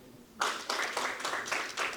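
Audience clapping at a business conference breaks out suddenly after a quiet moment, a few loud bursts of hands clapping in a loose rhythm that carries on steadily.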